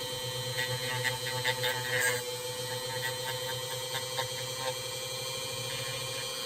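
A rotary power tool polishes a Polymer 80 Glock 17 trigger to smooth away small burrs, a steady high-pitched whine with light intermittent contact scratches as the tool moves over the part.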